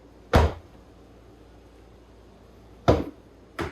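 A replaced door latch on an S550 Ford Mustang clunks shut and locks: one sharp, close thunk, a pause, then two more quick clunks near the end, with no talking.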